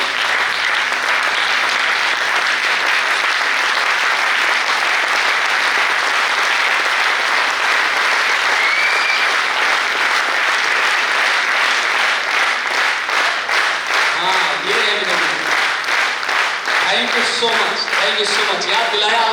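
An audience at a seminar applauds in a sustained, loud burst of clapping that holds steady, then thins toward the end as a few voices come through.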